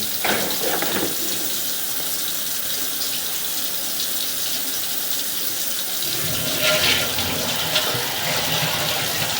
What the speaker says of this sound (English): The water's going through there nice and easy